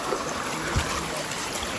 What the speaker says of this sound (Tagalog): So ayan, dito na kami sa malaking ilog.